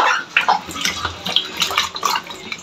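Fresh ripe tomatoes are washed by hand in water for homemade tomato sauce, giving loud, close, irregular sloshing and splashing with small drips, and no talking.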